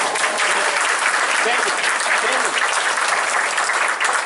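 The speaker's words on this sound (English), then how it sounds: "So you need to clap for her" Audience applause for a woman's sister at a talk, a dense, steady clapping from a large indoor crowd that holds for several seconds without a break.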